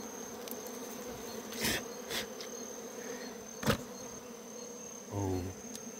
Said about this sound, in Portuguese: As abelhas tá vindo na minha mão aqui